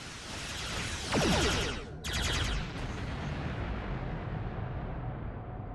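Missile explosions in the space combat game Star Trek Online, a loud roaring blast with rumbling bursts, a brief cutoff, then a sustained fiery rumble that fades into steady noise.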